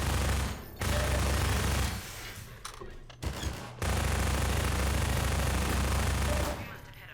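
Gunfire from automated turrets and soldiers in the video game Half-Life 2 comes as long, loud bursts of rapid machine-gun fire, broken by short pauses and scattered single shots.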